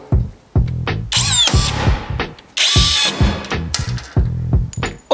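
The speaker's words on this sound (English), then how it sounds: "Here goes the first rivet, powered." A powered rivet gun sets a rivet on a metal strip of a bus, with several short, loud whirring bursts separated by brief pauses and a faint squeal near the end.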